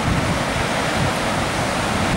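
Strong ocean surf in Australia rolls and crashes continuously behind the camera, a dense, steady wash of roaring water with no voices.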